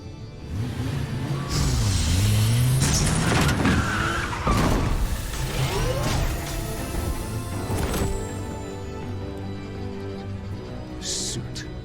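A car in the Batman Telltale Series video game drives and swerves, with engine whines rising and falling, tyre skids and a clunk near the end, all loud and close among the game's effects.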